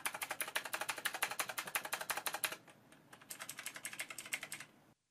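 Rapid, steady typing on a budget gaming keyboard with clicky blue switches, close and crisp, with a brief pause midway before the keystrokes resume, no talking.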